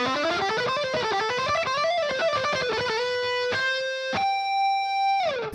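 A distorted electric guitar runs a fast shred pattern built on hammer-ons and pull-offs, its notes flowing in a rising and falling legato sequence before settling into a few sustained, ringing tones, played alone without talk.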